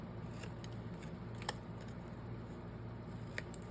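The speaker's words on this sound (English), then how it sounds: "I'll just cut these." Faint snips of scissors cutting paper ephemera for an autumn journal, a few light, sparse clips over a quiet steady room hiss.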